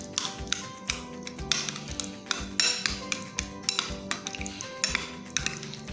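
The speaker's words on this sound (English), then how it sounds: "For this I have taken curd and we have to whisk it properly." Curd whisked in a bowl, rapid irregular clinks and taps of utensil against the dish, close and crisp, in quick bursts with brief pauses between.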